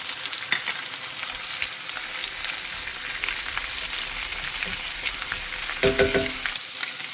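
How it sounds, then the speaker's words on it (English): Chopped onion sizzles in oil in a skillet that has cooled from very hot, a steady soft crackle with a brief stirring scrape near the end. "And now that it's not raging hot anymore, I'm going to add my onion."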